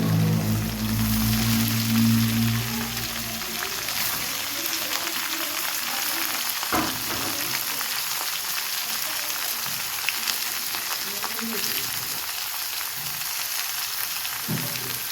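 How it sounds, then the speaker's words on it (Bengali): Coriander leaves with green chillies, garlic and salt frying in a pan give a steady broadband sizzle throughout, with a low rumble early on and no talk over it. "এটা বেশিক্ষণ ভাজি করতে হবে না অল্প একটু ভাজি করলে হয়ে যায়"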